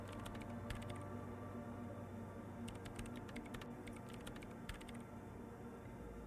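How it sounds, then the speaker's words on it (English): Keyboard typing sound effect from the video game Disco Elysium: quick bursts of clicky keystrokes in several clusters over a steady low background hum, with no talk. "The typing is pleasing."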